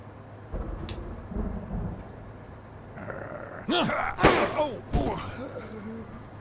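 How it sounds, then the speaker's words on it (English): Rain hisses steadily in the video game Blacksad while a loud crack of thunder booms and rumbles near the end, with brief voice-like sounds mixed in. "We're going to do it when there's thunder?"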